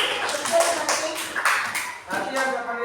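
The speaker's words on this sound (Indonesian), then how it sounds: "Tepuk tangan" Children in a classroom clap together on cue from their teacher, a few short bursts of rhythmic group clapping with voices mixed in.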